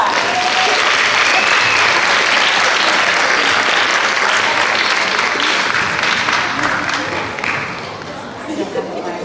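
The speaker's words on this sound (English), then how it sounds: "Let's give them a round of applause." Loud, sustained applause from a theater audience fills the room for several seconds, then thins out and fades, with scattered voices in the crowd.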